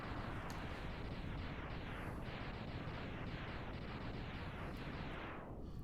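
Homing rockets blow up in the Mega Man X video game as a dense, continuous wall of booming explosions that stays loud for several seconds before cutting off abruptly.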